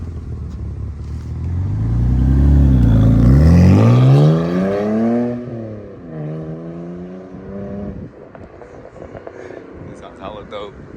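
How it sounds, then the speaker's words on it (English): A 2011 BMW E92 with resonator and secondary cat delete pulls past outside, its engine rising to a loud roar with a sweeping pitch, then easing into a rumbling fade with crackles at the end. "he's gonna do a little pull so we can hear how it sounds from the outside"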